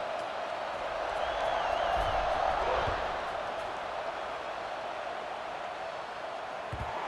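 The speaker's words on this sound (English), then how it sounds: "this crowd is feeling themselves after that last drive" A steady wash of crowd roar and cheering fills a stadium in an American college football video game, Florida State against Miami, holding at a constant level through a kickoff with no distinct peaks.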